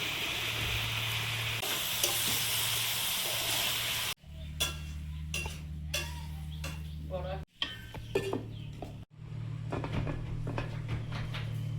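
Bengali vegetable chorchori of pointed gourd, snake gourd, yardlong beans and eggplant frying in a pan, a close, loud steady sizzle broken by clicking and scraping strokes of stirring and a few brief pauses.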